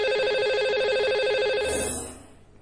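A telephone rings on a radio show's call to a listener, giving a steady electronic trilling ring that holds for about two seconds, then cuts off and fades, with no talking.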